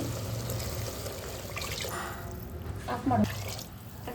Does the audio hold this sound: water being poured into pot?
yes